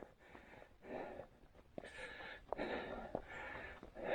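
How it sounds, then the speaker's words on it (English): Heavy, labored breathing from someone who has just climbed to the top of a mountain in northern Thailand, with close, rough gasps and exhalations in uneven bursts. "And I make no apologies for the heavy breathing."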